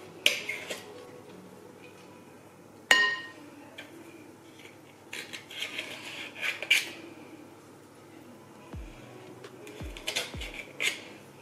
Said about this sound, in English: So I'm just scraping off the excess mixture.